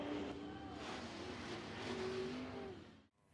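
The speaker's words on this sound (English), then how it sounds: "Whipping the donuts down in victory lane." A stock car at Eagle Raceway does donuts in victory lane, its engine revving and wailing in rising and falling swells, fairly distant, before cutting off abruptly.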